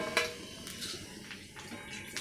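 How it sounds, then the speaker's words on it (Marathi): Puris for panipuri fry in hot oil, a soft crackle with a few light clinks of a utensil against the pan, close and quiet, without talk. "पुऱ्या तळून घेऊयात."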